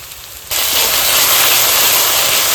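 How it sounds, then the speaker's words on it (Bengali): Ginger-garlic paste hits lightly browned onions frying in a pan for a masoor dal and egg dish, and a loud, close, steady hissing sizzle bursts in suddenly and holds. "পেঁয়াজটা হালকা লাল লাল করে ভেজে নিয়েছি, এখন এর মধ্যে আদা রসুন বাটাটা দিয়ে দিচ্ছি।"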